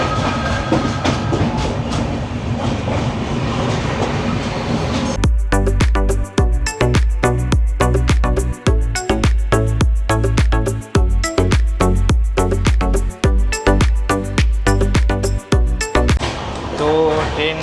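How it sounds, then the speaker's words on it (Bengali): The Tejas Express Mumbai–Goa train with Vistadome coach running fast on the Konkan Railway, a loud continuous roar with rapid rhythmic clickety-clack of wheels over rail joints, heard from inside the coach. "আর ট্রেন মোটামুটি ভালোই স্পিডে এখন চলছে"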